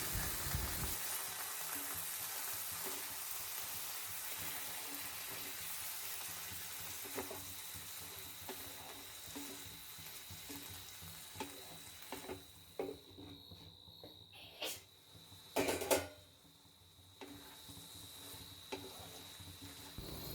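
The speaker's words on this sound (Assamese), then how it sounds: "এতিয়া ইয়াত আধা কাপ পানী দিম যাতে চব্জিখন আৰু অলপ ভালদৰে সিজি যায়।" Oyster mushroom curry sizzles and simmers steadily in a pan, a continuous frying hiss, with a few louder splashing bursts near the end as water is poured in, no voices present.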